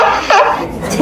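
A dog barks briefly nearby, one or two quick yelping barks with faint voices around it.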